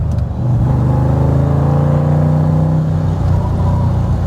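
The engine of a 1966 Chevrolet Corvette convertible pulls hard under acceleration, heard from inside the car as a loud, steady, deep rumbling drone with a rising tone and no speech.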